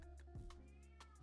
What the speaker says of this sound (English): my cat's calling me